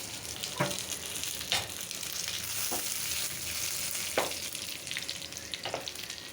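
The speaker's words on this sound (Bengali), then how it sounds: "তারপর আমি শাকটা দিয়ে দিচ্ছি এখানে" Greens drop into a pan of fish and potato curry with tomato, which sizzles and fries steadily while a few sharp stirring clatters break through at intervals. No voices.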